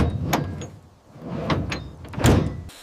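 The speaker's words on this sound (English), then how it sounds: "The cycle of the camp concludes with the closing of a door." A door swings shut partway through with a solid thud, preceded by a few scattered knocks and shuffles in a quiet room.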